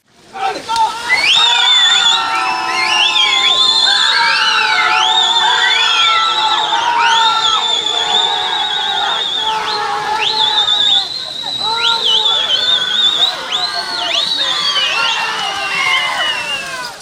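A large crowd at a kalapoottu bull plough race in Palathingal, loud and continuous, with shrill rising and falling whistles piercing the din from start to finish.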